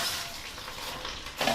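Popcorn being stirred into a sweet coating in a pan: a close, continuous sizzling hiss with soft stirring swishes, a little louder at the end.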